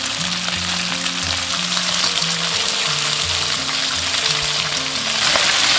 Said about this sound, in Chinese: 锅中倒少许食用油，下入鳗鱼， 全程开大火煎